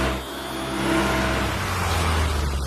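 A cartoon scooter speeds away, its small engine revving up into a rising, whirring drone that holds steady and close.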